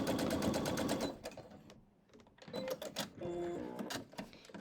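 Sewing machine stitching a scant quarter-inch seam on a quilt block, a steady close mechanical whir that runs, pauses briefly, then starts up again in short bursts.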